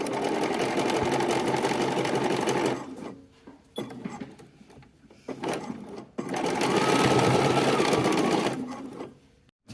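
A sewing machine runs in two long bursts stitching a double fold hem on a tiny baby garment sleeve, a steady close whirring rattle broken by a quieter pause of handling noise.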